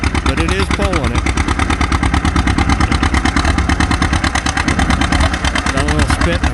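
An antique tractor engine pulling a plow at a plow day event, a steady loud chugging beat with uneven spits and sputters, running close by.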